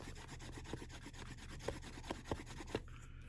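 A tool rubs back and forth along the edge of a leather notebook, a close, quiet rasping with regular strokes and a few sharper scrapes toward the end, no voices.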